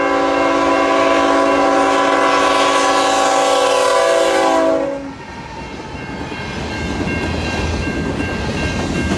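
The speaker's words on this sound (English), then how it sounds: "The second time was at Mount Albert, when 3104 pulled a grain train." A freight locomotive pulling a grain train at Mount Albert sounds a long, loud, close horn for several seconds, then the horn stops and the rumble and clatter of passing cars continues.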